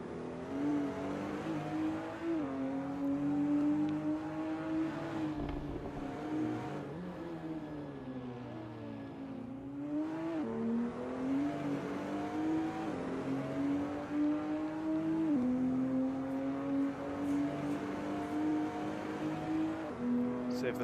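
Racing engines of a Toyota Supra and an Alpine GT4 car at Bathurst in a racing video game, a sustained droning whine rising and falling with gear changes, with a commentator talking over it throughout.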